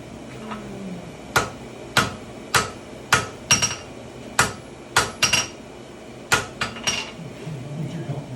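A blacksmith hammering a forge weld on a tomahawk at a demonstration, a dozen or so sharp ringing metal strikes at an uneven pace, close and loud, over faint background noise.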